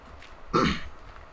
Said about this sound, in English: Clear my throat and all.